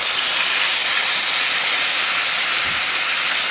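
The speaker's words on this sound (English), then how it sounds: "And then we're going to just dump the meat and the sauce right in." Beef and ahi tuna dumped with sauce into a piping hot pan, sizzling with a loud, bright, continuous hiss that holds steady from start to finish.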